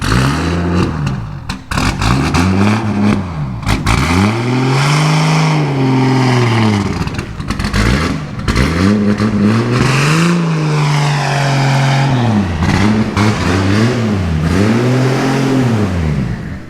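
A Nissan Skyline R31 engine revs hard on a dyno, loud and close, climbing and falling in repeated sweeping pulls with brief drops between them.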